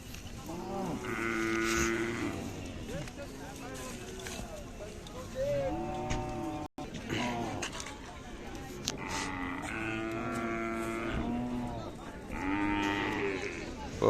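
Khillar cattle, including young bulls, low and moo repeatedly at a village fair in Kharsundi, long drawn-out calls overlapping one another amid a busy crowd murmur, close and loud.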